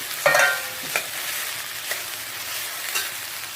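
Vegetable hakka noodles tossed in a pan over a high flame, street-food style, give a steady sizzle broken by a few sharp stirring scrapes and clatters, close and without voices.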